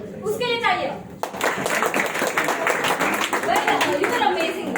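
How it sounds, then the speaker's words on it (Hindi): Open-mic audience clapping loudly after a performance, a dense spread of hand claps that follows a voice and continues steadily to the end. "जोरदार तालियां"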